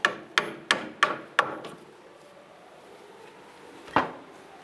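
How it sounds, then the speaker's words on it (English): Five sharp metallic hammer strikes on a Jeep Liberty outer tie rod end in quick succession, then a pause and one more blow, ringing briefly against a quiet background. "use a hammer, strike it a couple times"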